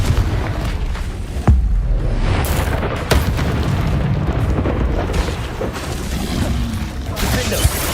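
Confringo spell blasts in Hogwarts Legacy combat: loud, booming explosions that run almost continuously over a dense, rumbling spell-battle din, with sharper impacts standing out near the start and middle.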